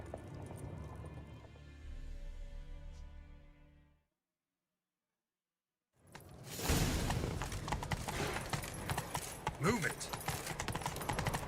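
Horse hooves pound rapidly in a gallop in The Witcher 3, mixed with rustling, a shouted line and game sounds. A short silent gap splits the stretch, then busier, louder hoofbeats return.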